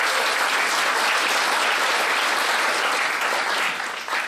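A banquet audience at the 2018 Santa Fe International Folk Art Market One World Awards Dinner claps for eight standing team leaders: dense, steady applause that stays full for about four seconds, then thins and tapers at the end.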